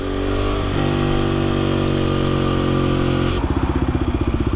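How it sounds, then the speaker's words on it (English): A Husqvarna SMR 510 motorcycle engine runs loud and close, holding a steady drone before settling into a rhythmic pulsing idle. "I love the way this bike sounds"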